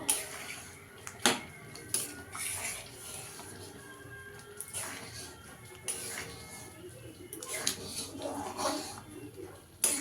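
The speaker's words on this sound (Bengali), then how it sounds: "এক চামচ ঘি দিয়ে দেব ভালো করে মিশিয়ে নেবো" Masala khichdi being stirred in a pot after a spoonful of ghee goes in, with a spoon clinking and scraping against the metal in scattered strokes over a soft, thick shuffling and a low background hum.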